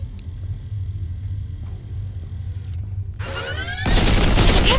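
A gun turret in Tales From The Borderlands opens up with a loud, sustained burst of rapid fire that swells into a heavy roar over a low rumbling game backdrop.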